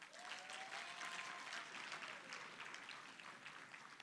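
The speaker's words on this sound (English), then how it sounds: "And let's give him another big round of applause." Conference audience applause, a continuous wash of many hands clapping at fairly low volume, with a faint whistle-like tone drifting through early on.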